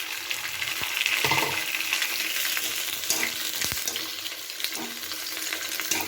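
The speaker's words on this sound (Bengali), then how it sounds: "তেলটা কিন্তু খুব ভালো করে গরম হয়ে গেছে। এবার আমি পাঁপড়টাকে এর মধ্যে দিয়ে দিচ্ছি" Sabudana papad pieces frying in well-heated oil, a dense continuous sizzle and crackle with occasional sharper pops, close and steady with no talk.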